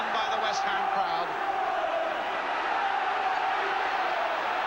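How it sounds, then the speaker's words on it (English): A West Ham football crowd roars in a packed stadium as a continuous broad wash of massed voices. A commentator talks over it near the start. "Roared on by the West Ham crowd"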